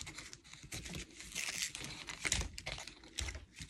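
Tape being peeled and pulled up from the blue cardboard packaging of a Red Romance Barbie doll box, a close, steady crinkling and tearing rasp with a few sharper crackles, no voices.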